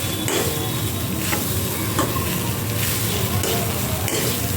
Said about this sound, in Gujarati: હવે આને નારિયેળને ઘીમાં શેકી લેવાનું છે.